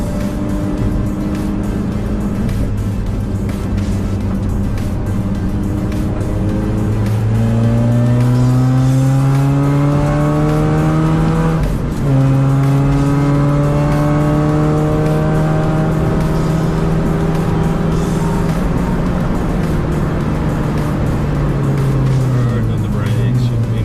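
A race car at a Hockenheimring track day, heard from inside, its engine droning loudly and climbing in pitch through the gears, with brief dips between shifts. The engine runs continuously, and a voice talks under it.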